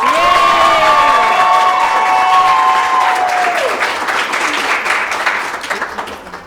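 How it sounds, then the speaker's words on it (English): Applause and cheering from a high school audience at an academic event, greeting an 11th-grade student; loud clapping under a trailing tonal sound that fades as the crowd noise continues. "Everyone give a big round of applause for Talia."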